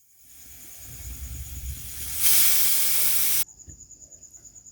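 A pressure cooker holding mutton trotters whistles as steam escapes. A hiss builds for about two seconds, bursts into a loud, bright blast for roughly a second, then cuts off abruptly and leaves a quieter pulsing hiss.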